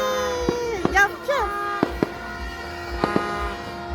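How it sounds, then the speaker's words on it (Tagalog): New Year fireworks bursting overhead: several sharp, separate pops at irregular intervals over a sustained tonal background, with voices talking nearby. "Wow, fireworks."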